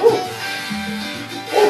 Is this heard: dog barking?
yes